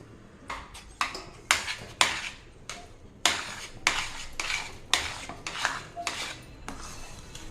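A spoon repeatedly scrapes and clinks against a metal pot while stirring grated coconut into thick rice kali, a steady series of sharp close knocks with no talking.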